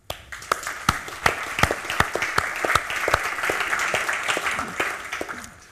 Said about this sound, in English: this time I'd like to ask you for a round of applause for Sarek and Jan, please.